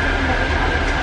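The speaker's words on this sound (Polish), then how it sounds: "Jestem właśnie w pociągu relacji Kostrzyn Poznań" Inside a passenger train on the Kostrzyn–Poznań route, a loud steady rumble of wheels and carriage noise fills the space with a constant broadband roar and faint high whine, no talking.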